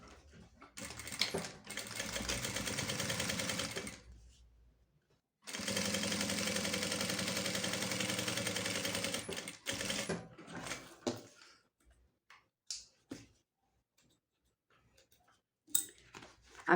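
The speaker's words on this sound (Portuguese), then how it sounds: "agora eu passo um pé de máquina" A sewing machine stitches the lining of a fabric pouch in two long, steady runs of rapid needle clatter, followed by a quieter stretch of scattered clicks and handling noises.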